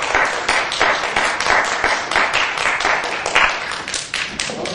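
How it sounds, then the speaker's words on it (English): An audience applauds after a piano master class performance, a dense, lively patter of many hands clapping at once, steady and fairly loud for the whole stretch. "Can you be nice and give this another round of applause?"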